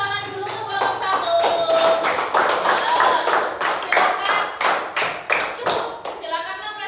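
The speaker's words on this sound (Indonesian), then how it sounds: "kita beri tepuk tangan dulu untuk kelompok 1." A classroom of students claps for a presenting group, loud, close and fairly rhythmic hand claps running throughout, with a teacher's voice briefly at the start.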